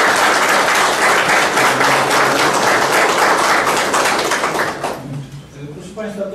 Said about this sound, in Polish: też brawa dla Ciebie